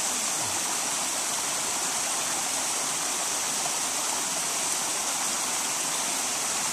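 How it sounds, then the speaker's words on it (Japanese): Spring water pours out of a small natural spring, a steady, close, continuous rushing and gurgling that is loud and even throughout, with no voices. "すぐ5メートル先が湧き水があって、まあ、泉ですね。"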